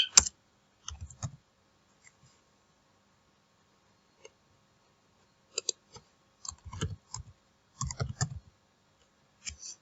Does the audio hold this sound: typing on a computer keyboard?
yes